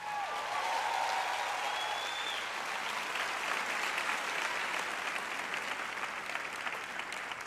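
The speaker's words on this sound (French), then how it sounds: "applaudissez plus fort que ça" Sustained applause from a large audience at a church sermon, dense and even throughout with a faint voice briefly audible near the start.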